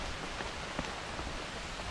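Steady rain pours down on a dense mango grove, a continuous hiss of drops striking leaves and surfaces, with no voices and no gaps.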